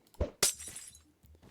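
A Minecraft splash potion is thrown and shatters, a soft thud followed by a sharp glass-breaking crash with a brief bright tinkling tail, then faint clicks.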